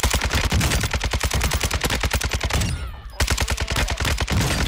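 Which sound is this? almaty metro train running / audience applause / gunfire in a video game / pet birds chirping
gunfire in a video game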